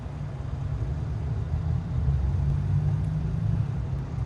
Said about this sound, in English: You heard that Ferrari?